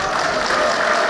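A crowd at an evening celebration applauds steadily, many hands clapping together in a dense, sustained patter, fairly close and loud.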